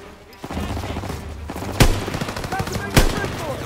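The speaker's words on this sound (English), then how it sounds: "We need to take that MG!" Continuous machine gun fire rattles through a Call of Duty WWII battle scene, dense and loud with two heavier blasts standing out, while voices shout over the gunfire.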